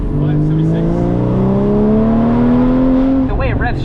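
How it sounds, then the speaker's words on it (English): A Porsche Cayman GT4 engine revs freely up toward its redline, its pitch climbing steadily for about three seconds before dropping off as it lets go, loud and close, with a voice speaking briefly at the end. "The way it revs just so freely"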